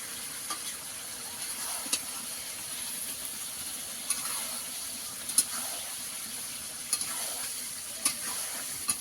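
Chicken curry with Malabar spinach and fried potatoes sizzles steadily in a hot pan, with occasional sharp clicks and scrapes of stirring cutting through the constant frying hiss.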